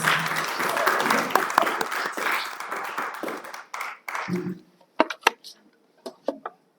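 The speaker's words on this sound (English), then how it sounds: "Oh, you are not clapping for Mr. Adams" A burst of applause from a crowd fades out, followed by a few separate, isolated claps and some brief talk.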